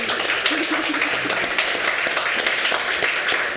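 An art-talk audience applauds a guest artist with steady, dense clapping that fills the room without pause, a faint voice showing briefly beneath it.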